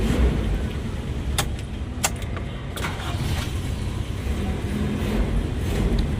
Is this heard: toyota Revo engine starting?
yes